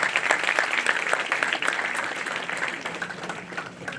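Applause from an auditorium audience at a college annual prize distribution, a steady dense wash of many hands clapping throughout, fairly loud and continuous with no talk over it.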